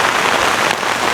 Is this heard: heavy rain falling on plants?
yes